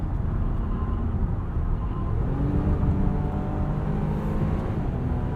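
Interior drone of a 2022 Nissan Pathfinder Platinum 4WD three-row SUV with a V6 engine while driving, a steady low engine and road hum with slight rising tones, no talking.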